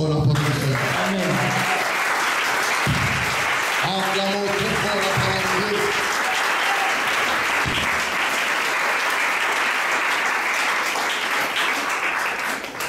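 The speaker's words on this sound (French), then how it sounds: "Acclamons très fort la parole" Loud, sustained applause fills a church service, broad and steady throughout, with a preacher's voice and musical or vocal tones breaking through over it early on.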